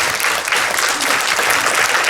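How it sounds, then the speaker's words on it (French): Audience applause at a family-association conference, a dense, steady burst of clapping from a crowded hall, loud and sustained without pause. "je voudrais qu'on applaudisse cette dame, s'il vous plaît"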